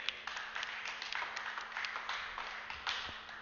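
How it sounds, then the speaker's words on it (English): Scattered applause from a small group at a cricket league awards gathering, a light patter of claps with no talk over it. "So just a round of applause for those two."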